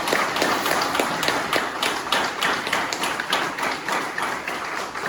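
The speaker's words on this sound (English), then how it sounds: "So give y'all a round of applause" Audience applause at a talk in a teen center, a lively, continuous patter of many hands clapping with distinct sharp claps standing out, steady throughout at moderate volume.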